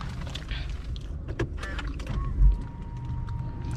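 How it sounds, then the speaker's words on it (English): Electric side view mirrors on a Mahindra XUV300 fold out with a faint motor whir lasting a few seconds, set against quiet cabin background with a light click midway. "So opening the side view mirrors"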